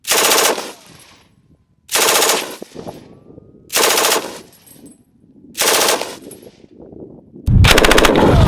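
An MG34 machine gun fires five loud, rapid bursts separated by short pauses, each a dense rattling roar close by, the last burst starting sharper and heavier.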